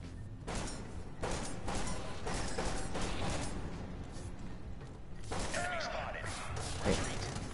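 Shotgun blasts from Genesis Alpha One sound off as several loud, sharp bursts spread across a busy stretch of gunfire and mechanical game noise, with a voice partly over it.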